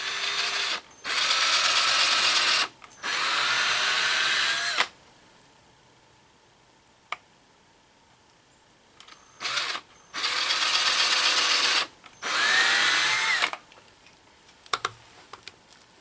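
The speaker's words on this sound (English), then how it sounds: "I'm going to pre-drill a couple holes up in here for each side" A power drill pre-drills holes in wood while building a passive food dehydrator. Its loud whirring comes in several bursts of one to two seconds, separated by quiet pauses, with no talking.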